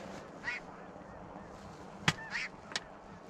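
A snow goose gives a few short, faint honks during a goose hunt, scattered over steady outdoor background noise, with a sharp click and rustle nearby.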